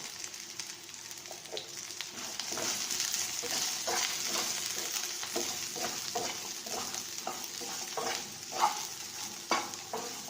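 Brinjal and okra sautéing in oil in a pan, a continuous soft sizzle with regular scraping stir strokes, close and fairly quiet.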